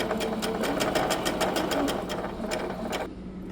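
A sewing machine stitches an inseam pocket on with a straight stitch, running in a fast, even clatter close to the microphone and then stopping abruptly near the end.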